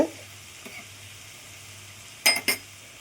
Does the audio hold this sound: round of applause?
no